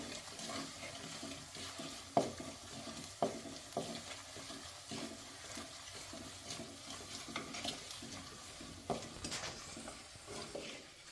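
Chili powder and asafoetida roasting in a pan for a mango pickle, stirred steadily with a soft continuous sizzle and intermittent scrapes and taps of the spoon against the pan.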